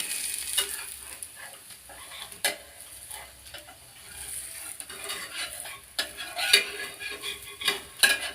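A dosa fries in oil on a hot pan while oil is spread over it with a ladle, giving steady soft sizzling broken by several sharp scraping and tapping clinks of metal on the pan.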